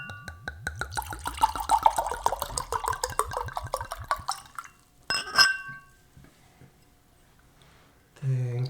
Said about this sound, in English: We can still do the ASMR pour.